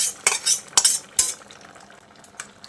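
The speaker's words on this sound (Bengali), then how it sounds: "এবার আমি যে ফোড়নটা ভেজে নিলাম সেটা এর মধ্যে দিয়ে দিচ্ছি" Fried tempering tipped into cooked red lentil dal and stirred, a few sharp close spoon-and-pot clatters and a brief sizzle that fade into a quieter simmer, no voices.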